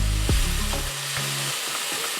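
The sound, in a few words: green beans sizzling while cooking in a pan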